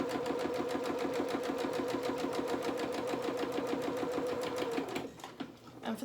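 Sewing machine stitching down a seam on a pinked-seam fabric sample, a steady rapid needle rhythm running close and loud for about five seconds before stopping abruptly, with a brief softer rattle after.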